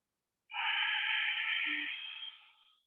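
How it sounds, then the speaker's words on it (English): Ujjayi yogic breath, a single long, steady hissing exhalation through a narrowed throat, close and clear against silence, fading out gradually over about two seconds. "Both breathing in create a sound, breathing out create a sound."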